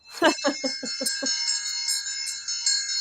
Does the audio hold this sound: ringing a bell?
yes